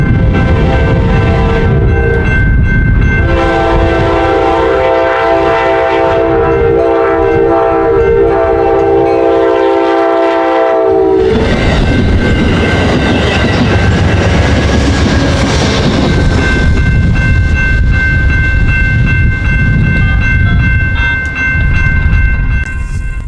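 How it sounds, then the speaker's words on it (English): Amtrak's southbound Heartland Flyer passenger train passes at Tower 60 in Fort Worth, Texas, blowing a loud multi-note horn, then rumbling and clattering by close and heavy as the horn sounds again over the passing cars. "Amtrak's southbound Heartland Flyer was nearing its destination in Fort Worth from Oklahoma City"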